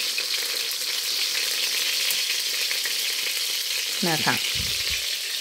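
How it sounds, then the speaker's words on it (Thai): Battered mushrooms deep-frying in hot oil for mushroom tempura, a steady bright crackling sizzle running throughout, with a brief clatter of stirring near the end and someone speaking briefly. "เราไม่ต้องทอดเตรียมจัดนะฮะ"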